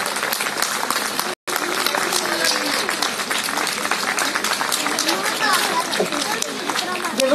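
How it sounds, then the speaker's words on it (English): Audience at a nursing staff play in Ludhiana applauds for the College of Nursing, a dense sustained clapping crowd with brief chatter mixed in, broken by a momentary dropout near the start. "Please give a round of applause for the College of Nursing."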